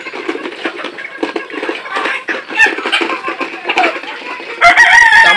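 Layer hens and other chickens on a poultry farm cluck in a dense, continuous chorus, with a rooster's crow ringing out close and loud near the end.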